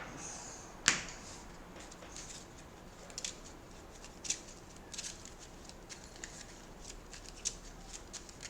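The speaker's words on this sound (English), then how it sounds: "Shuffle the deck up." Faint card sounds from an encounter deck being shuffled during a Marvel Champions-style card game, heard as a sharp snap followed by scattered soft ticks over low room hiss.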